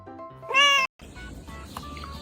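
A small kitten gives a clear, close meow, rising and bright, followed by a brief silence and then softer household noise with faint background sounds.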